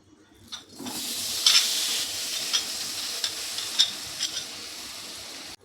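Date palm jaggery melting in a wok, a steady close sizzle and hiss with a few sharp crackles and pops scattered through it, no talking.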